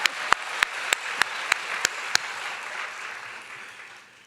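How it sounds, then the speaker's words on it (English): Applause at a medical school white coat ceremony: a crowd claps steadily, with a few sharp, evenly spaced claps standing out at the start before the applause gradually fades. "Okay, you're allowed to applaud for this."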